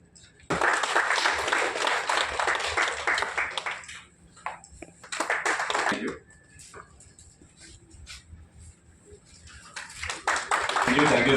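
Audience at a media owners' association event at Haritha Plaza, Begumpet, clapping in several bursts that start and stop, with quieter gaps between them where an announcer speaks and things shuffle.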